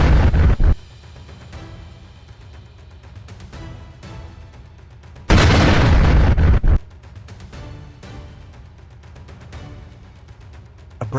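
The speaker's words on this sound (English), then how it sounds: "a second F-16 strike hits the ammunition storage, triggering a massive explosion." An ammunition storage site blows up in a massive explosion after an F-16 air strike: a loud opening blast, a long rumbling roar, then a second powerful burst, with smaller pops and crackles continuing throughout.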